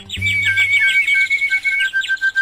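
A cartoon bird chirps in a quick string of bright, sweeping tweets followed by a long sustained whistle-like tone, close and clear over a brief low thump near the start.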